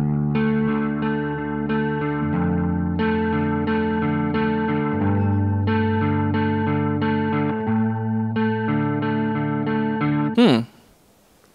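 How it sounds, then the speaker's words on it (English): Sustained chords on an effects-processed electric guitar, the bass notes stepping between changes while the upper notes hold steady, played alone with a shimmering chorus tone before a short scrape ends the passage. "you move your bass notes around while keeping your higher notes static."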